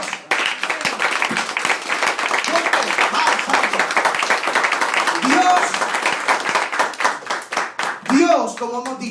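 A church congregation claps loudly and rhythmically in praise during a Spanish-language service, dense sustained clapping that fills the room before a voice resumes speaking toward the end.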